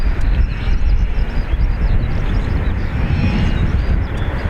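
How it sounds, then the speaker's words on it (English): Embraer jet rolling down the full length of the runway for takeoff at Dublin Airport, a steady loud broadband engine roar with heavy low rumble holding throughout, no voices. "Full length for this Embraer, so I imagine an early rotate."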